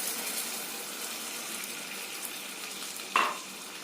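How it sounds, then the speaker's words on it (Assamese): Pineapple chutney stirred in a pan after water is added, a soft continuous sizzling, bubbling wash with a brief louder scrape of the spoon near the end, no talk. "পানীখিনি দি মই ভালদৰে লৰাই দিম।"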